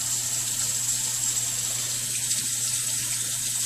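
Water streams steadily while soap is rinsed out of gear, a constant close hiss of running water like a tap with no breaks and no talking.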